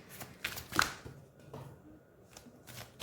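Tarot cards are shuffled by hand in a quiet room, producing several soft, brief riffling bursts of papery clicks separated by short pauses, close and fairly faint.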